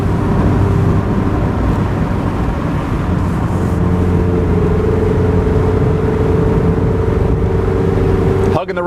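A 2016 Mazda MX-5 driving around corners gives a steady, loud engine and road hum heard from inside the car. Someone speaks over the constant drone.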